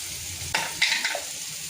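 Onion and tomato with chilli powder frying in a pan, a steady sizzle that jumps louder as ingredients drop in, followed by bright crackling and scraping stirs nearby.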